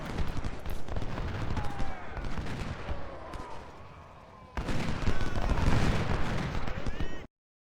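Gunfire and artillery from Civil War-era batteries and ironclads in the strategy game Ultimate General: Civil War crackle densely, with deep booming blasts, a brief lull, then a louder sustained barrage before cutting off.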